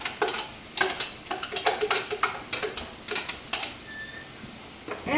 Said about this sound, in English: I am frying up my ground chicken